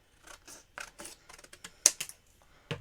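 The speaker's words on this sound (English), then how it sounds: "we are going to need to cut off a little bit as well off the sides" Scissors snip through paper card for a handmade Christmas tree shaker card, a handful of crisp close cuts in short bursts with brief pauses between them, no talking.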